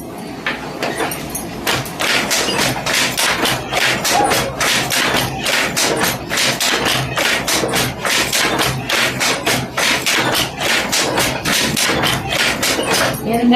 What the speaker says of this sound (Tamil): நான் கொஞ்சம் ஒரு ஜானுக்கு நெய்யணும்.